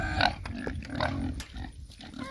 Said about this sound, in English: Pigs are noisy. They're hungry.